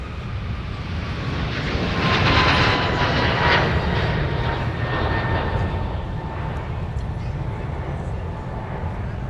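Aircraft engines rumble steadily at MSP airport in the Twin Cities, a broad continuous roar that swells slightly mid-way and holds, with faint tonal whine above.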